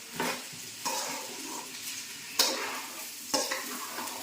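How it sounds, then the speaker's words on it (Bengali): Rice frying in a pan as it is stirred, a soft continuous sizzle broken by a few sharp scraping strokes of the spoon against the pan, heard close and alone. "দিয়ে ভালো করে এবারে চালটাকে ভাজতে হবে, সুন্দর করে ভাজতে হবে"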